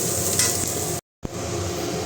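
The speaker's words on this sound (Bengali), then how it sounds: "এই হলো আমার চালটা ভাজা হয়ে গেছে" Rice frying in a pan while being stirred with a spoon, a steady close sizzle with scraping strokes, briefly cut to silence then resuming.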